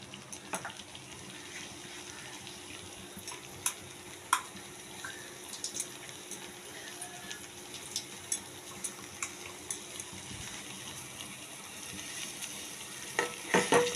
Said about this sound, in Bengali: দিয়ে একটু ফোটাবো।